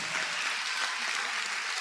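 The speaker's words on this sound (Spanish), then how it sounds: "Denle un aplauso al Señor Jesucristo" Applause from a church congregation during an evangelical service, a steady dense wash of many hands clapping that fills the short stretch without pause.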